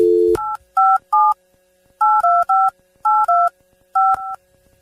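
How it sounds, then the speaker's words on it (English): Phone keypad tones beep in quick groups, a dozen or so dual-tone presses with short gaps, over a steady faint hum. "let's try to get Jason on the phone here and see how it goes"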